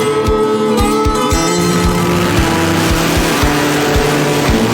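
A supercharged 1957 Chevy and a Ford T-Bucket roadster drag race at Norwalk Raceway Park, engines roaring loud and close with rapid rising and falling revs, steady and unbroken throughout.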